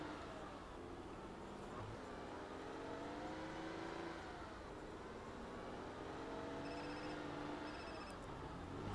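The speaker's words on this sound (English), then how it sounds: "Phone ringing." A mobile phone rings in Grand Theft Auto: San Andreas with a brief electronic tone over the steady drone of a car engine during a driving mission.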